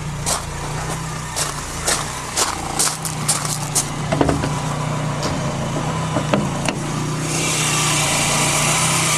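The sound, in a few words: VW Scirocco GTX DX engine running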